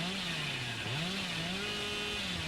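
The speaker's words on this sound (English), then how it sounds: "beautiful attempted chainsaw." A chainsaw attack in a competitive Dead by Daylight match plays as a steady, revving motor drone with a wavering pitch, fairly faint and continuous, with no talk.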